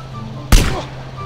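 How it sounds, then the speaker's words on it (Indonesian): A loud single gunshot in GTA San Andreas, aimed at a character's head, cracks out sharply over a steady low game-music hum and decays within a few tenths of a second. "Dua kali tembakan di kepala"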